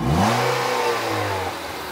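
Infiniti G35 engine revving: a loud, close, sustained rev holds a steady droning pitch for nearly two seconds before dipping slightly near the end.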